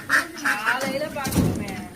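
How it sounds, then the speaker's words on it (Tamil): Duck quacking loudly in a village yard, with several harsh, raspy calls in quick succession among other farm birds, while a person talks over the noise. "வாத்து இப்படி தான் கத்துமா பயங்கரமா?"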